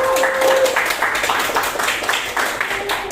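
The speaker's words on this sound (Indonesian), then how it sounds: "Tepuk tangan untuk kelompok 1." Classroom audience clapping for a group presentation, a steady busy patter of many hands throughout, fairly loud and close.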